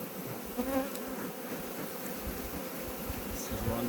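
A honeybee colony in mid-September buzzes steadily and densely while being moved into a better hive box; the hum is close and continuous, with no talking.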